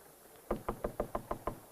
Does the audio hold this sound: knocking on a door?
yes